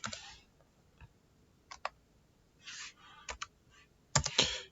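Sparse keystrokes on a computer keyboard while entering code, a few isolated clicks and short clusters spread out, then a quick burst of several keys at the end, close and clear with no talk.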